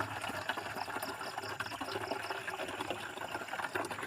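Water being fetched outdoors, a steady broadband rush of pouring and splashing liquid that runs continuously and fairly close, with no talk over it.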